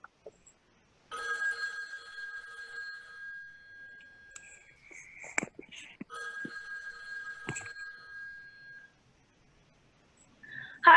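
A telephone rings in a staged skit about a Narcotics Anonymous phone line, two sustained trilling rings with short gaps and a few thuds between them, fairly loud and close, with no talk over it.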